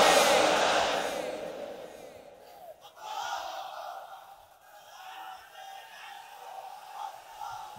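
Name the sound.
crowd chanting takbir, Allahu Akbar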